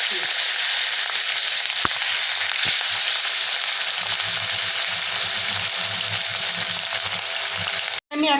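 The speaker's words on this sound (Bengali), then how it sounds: "মাছগুলো ভেজে নিচ্ছি।" Fish fry in white oil in a wok with a steady, loud, broadband sizzle close up, a few sharp pops breaking through and soft low clatter underneath.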